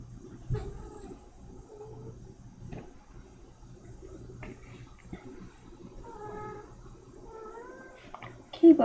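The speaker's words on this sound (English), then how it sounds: "He just comes over here, looks at me, meows" A house cat meows a few times, short rising and falling cries near the end, close to the microphone over faint room noise and soft background sounds.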